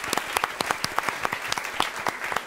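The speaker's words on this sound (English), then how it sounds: "Round of applause," An audience at a Food, Inc. 2 panel discussion applauds, a steady wash of many hands clapping at moderate distance with crisp individual claps standing out.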